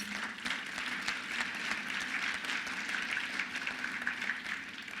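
Steady applause from an audience at a New York civic gathering, with continuous crowd clapping at moderate volume throughout.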